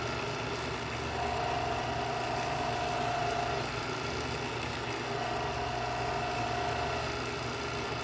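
Edgeware electric knife sharpener running with a felt brush drawn through its ceramic slot, a steady close motor hum and whir holding level throughout, with a faint tonal whine rising twice.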